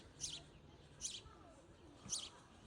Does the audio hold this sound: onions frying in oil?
no